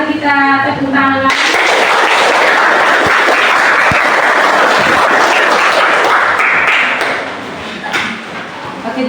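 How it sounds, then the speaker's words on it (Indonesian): A classroom bursts into applause for student groups after their presentations: a voice speaks briefly, then dense, loud clapping from many hands runs for about six seconds before fading out. "Jadi mari kita tepuk tangan."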